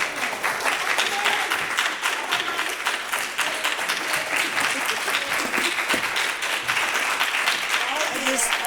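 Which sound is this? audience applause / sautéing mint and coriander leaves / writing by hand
audience applause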